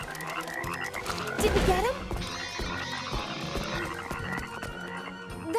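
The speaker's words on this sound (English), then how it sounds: "Froggies." Cartoon frogs croak in a busy animated scene, their throaty calls layered over music and effects while a character speaks briefly.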